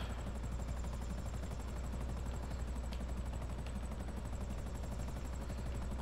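A helicopter flies in the video game GTA V, its rotor making a steady, rapid chop over a low engine drone that stays constant and fairly close throughout, with no talk.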